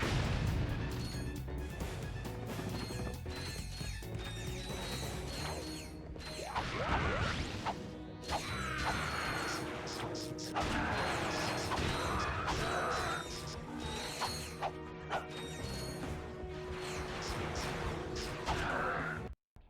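Gunfire and explosions from the Ratchet & Clank 3 video game, a dense, continuous barrage of shots, blasts and clanking mechanical effects layered over a loud game soundtrack throughout, with no speech.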